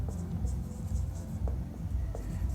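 Pen scratching on paper in steady, soft strokes, close by and moderately loud over a low room hum, with faint scattered taps.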